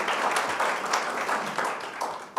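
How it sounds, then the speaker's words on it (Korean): Audience applause at a National Assembly forum on government innovation and blockchain, a dense wash of clapping from a seated crowd, fairly loud and sustained before tapering at the end, with no voices. "다시 한번 박수 부탁드립니다."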